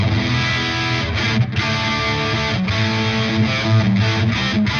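An electric guitar plays through a fuzz distortion pedal on a pedalboard, a thick, saturated sustained tone with repeated picked notes and chords, loud and alone.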